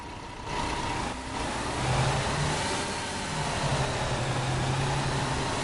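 A standard bus in Tourist Bus Simulator drones with a steady mid-pitched engine hum, rising slightly as it accelerates, continuous and fairly loud with no talking over it.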